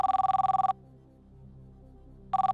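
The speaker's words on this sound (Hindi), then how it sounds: "अहमदाबाद में फोन लगाया जाए" Telephone on a quiz show lifeline call to Ahmedabad rings in two loud electronic bursts separated by a pause, with a low hum underneath and no talking.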